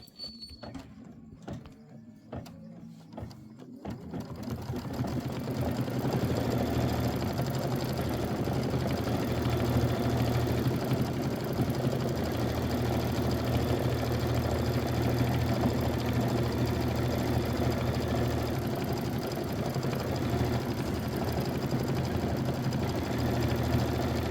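A Kimberbell embroidery sewing machine runs continuously while quilting the borders of a nativity bench pillow, a steady close mechanical whir that starts after a few seconds of quieter handling noise and holds evenly throughout.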